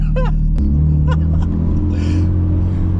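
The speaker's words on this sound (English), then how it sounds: "It actually sounds like a drift car now." Modified Toyota/Subaru FRS with a K24 engine swap driving, its engine rumbling loud and steady throughout at close range, with brief voices and a chuckle near the start.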